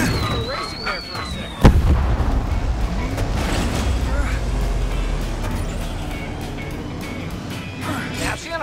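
Rocket weapon blasts in the racing game Cars 3 Driven to Win, one sharp explosion early followed by a rumbling roar of engines and further bursts, with a voice and game music in the mix.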